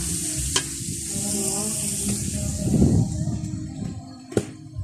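Carrots stir-fry in a pan with a steady close sizzle, broken by a few sharp utensil scrapes and clinks and a brief louder stirring swell.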